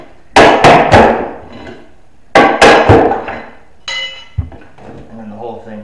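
Two bursts of sharp metallic strikes and prying thuds as a hammer and pry bar lift laminate flooring, then scraping and creaking as boards are levered up, close and loud.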